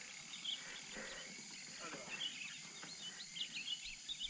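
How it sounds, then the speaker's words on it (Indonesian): Birds singing in outdoor countryside during a bicycle ride, scattered high chirps and short calls repeating over soft background noise, with people talking faintly underneath. "Tantangannya suara burung-burung."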